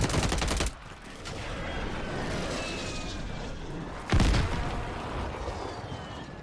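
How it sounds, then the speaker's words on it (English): Friendly precision airstrike in Call of Duty Warzone: two heavy, close blasts several seconds apart, each a loud booming burst followed by a rumbling tail of debris and distant crackle. "Friendly precision airstrike inbound."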